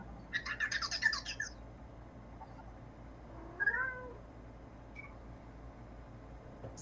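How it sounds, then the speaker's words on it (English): A house cat meows in a short run of bright, wavering cries near the start, followed a few seconds later by a single rising-falling call, over a steady low hum in an indoor room. "Is that my cat or Sylvia?"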